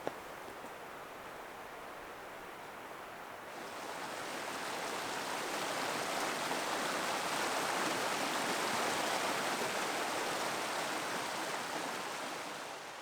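A creek flows steadily along a hiking route in remote trout country, a broad, even rush of water that swells slightly louder after a few seconds and then holds constant with no voices.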